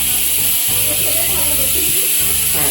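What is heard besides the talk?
pressure cooker hissing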